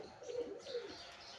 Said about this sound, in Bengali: আর কিছু কবুতর আছে আমার বাইরে, এগুলো দেশি।